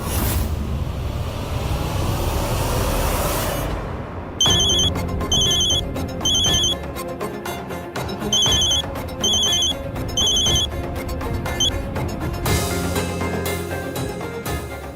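A phone rings in a tense TV drama scene and goes unanswered, its repeated electronic ring bursts pulsing over a loud dramatic music score, with no one speaking.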